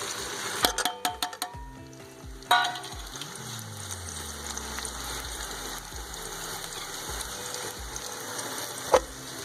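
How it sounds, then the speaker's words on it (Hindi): Three large chopped onions fry in a pan for chicken yakhni pulao, a steady broad sizzle with a few sharp clatters and crackles at the start and a lone clink near the end, no talking. "प्याज को हम ब्राउन होने तक अच्छे से फ्राई करेंगे।"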